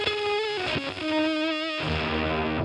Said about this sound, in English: Just like glitched out, just crazy sound